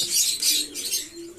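Pigeons kept in a loft during rainy weather, some unwell, give soft low coos beneath brighter rustling chirps, the sounds close by and repeating in short bursts.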